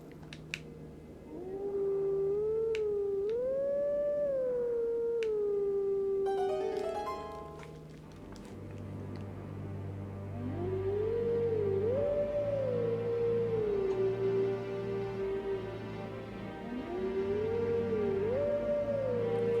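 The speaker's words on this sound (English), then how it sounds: "the howling songs that you will hear should sound eerily familiar" Wolf howling songs from The Legend of Zelda: Twilight Princess HD, several long rising and falling melodic howls over a low drone and sustained musical tones.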